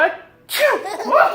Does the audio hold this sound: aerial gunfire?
no